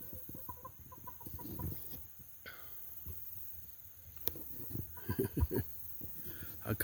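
Backyard chickens cluck in a quiet yard, soft close-up clucks repeating irregularly, with a brief louder burst of clucking near the end.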